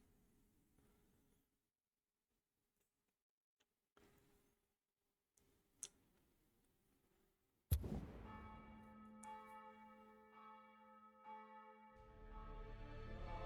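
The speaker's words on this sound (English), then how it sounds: "Some church bells ringing in the distance." Church bells ring in the distance in the video game Dragonkin, with a sustained, resonant tone and lingering overtones after a quiet stretch with a few faint clicks, sounding somewhat distant.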